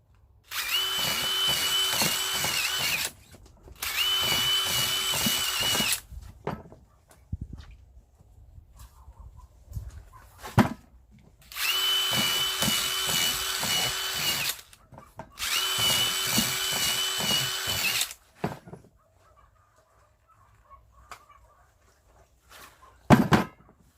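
A power drill bores holes in mushroom cultivation bags in four loud, steady bursts of about three seconds each, separated by quieter pauses filled with handling noises and faint clucking chickens nearby.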